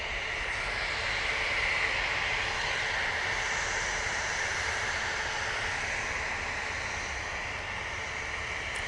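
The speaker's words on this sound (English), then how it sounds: "next out, that NetJet going off to Milan" NetJets business jet taking off from Manchester Airport bound for Milan, a loud, even jet engine roar with a bright whining hiss, sustained and close throughout.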